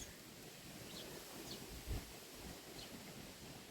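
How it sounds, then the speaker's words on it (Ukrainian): Steady wind noise rushing across the microphone, with a brief louder gust near the middle and no voices. "Сьогодні вітер у нас"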